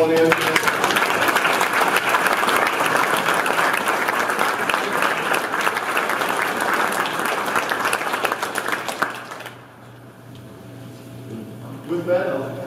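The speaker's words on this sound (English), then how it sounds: "So we just have a round of applause for Paul and Angela" Audience applause at an evening civic meeting for re-elected officials, a sustained burst of many hands clapping for about nine seconds before fading into room quiet.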